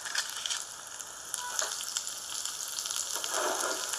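Food frying in a pan with kaşar cheese among the ingredients, a steady close sizzle with crackling bursts that swell louder toward the end, no voices.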